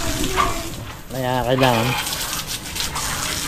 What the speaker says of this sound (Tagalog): Bugaan lang natin itong ating motor. Kasi pangit yung tubig ulan ba.